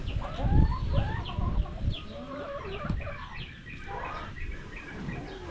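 Several native chickens cluck and chatter continuously nearby, a busy flock over low background rumble.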